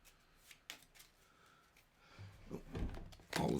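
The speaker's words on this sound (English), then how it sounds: "Shuffle the discard pile." A deck of cards is shuffled during a World of Warcraft board game, soft riffling and tapping that builds into a louder burst of shuffling at the end, close by with no talk.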